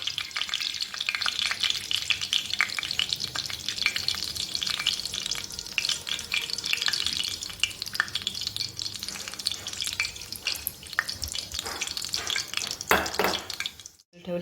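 Bread pakora coated in gram-flour batter frying in hot oil at home, a steady loud sizzle and crackle throughout with occasional stirring scrapes, ending in a brief clatter.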